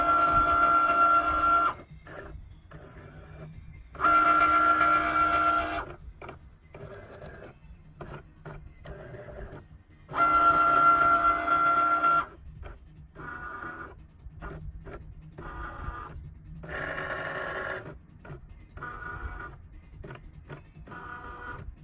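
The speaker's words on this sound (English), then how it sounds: "now what you do is you actually scan out all the 4 corners, all right, before it's actually cutting" A Cricut Maker scans the corners of a full A4 printed sticker sheet before cutting. Its carriage motor whirs in loud separate bursts broken by quieter mechanical shuffling and stepping, all close by with nobody talking.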